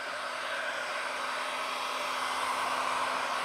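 Heat gun blowing hot air over a wood board before gluing, a steady, loud broadband whoosh with a faint hum underneath that holds constant and close for the whole stretch, with no talk.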